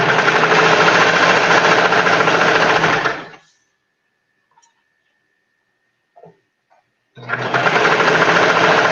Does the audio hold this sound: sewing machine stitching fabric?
yes